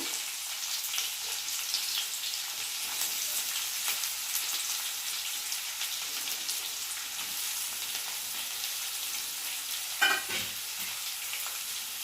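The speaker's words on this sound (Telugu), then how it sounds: "శనగపప్పు కొంచెం వేగుతుంది ఇప్పుడు ఇందులో ఒక పెద్ద సైజు ఉల్లిపాయ కట్ చేసుకొని వేస్తున్నాను" Chana dal and a large chopped onion fry in a pan, giving a steady, moderate sizzle throughout with one sharp clatter of stirring near the end; no talking.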